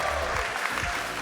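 An audience at the RLCS 2021-2022 World Championship esports event applauding and cheering, a dense steady wash of clapping and crowd noise close and loud throughout.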